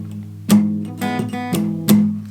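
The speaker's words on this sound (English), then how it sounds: "Palm muting is when you rest your hand on the very end of your guitar," Palm-muted acoustic guitar strumming, several short damped chord hits in a loose rhythm, each with a soft thump and quickly choked ring, played alone up close.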